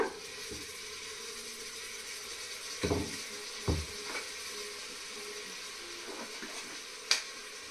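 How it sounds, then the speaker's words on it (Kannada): Tomatoes fry in a pan with a steady low sizzle throughout, broken by a few sharp clicks and taps of stirring, with no talking. "ಇವಾಗ ಇದಿಷ್ಟು ಹಾಕ್ಬಿಟ್ಟು ಚೆನ್ನಾಗಿ ಒಂಚೂರು ಫ್ರೈ ಮಾಡ್ಕೋಬೇಕು"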